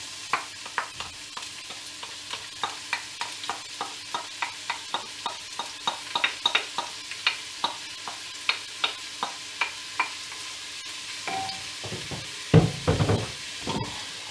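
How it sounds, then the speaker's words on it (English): Onions sweating in a pan for cabbage soup over a gas flame, with a steady run of regular stirring scrapes and knocks against the pan under a soft sizzle, ending in a few louder clatters. "Right, I'll sweat the onions down,"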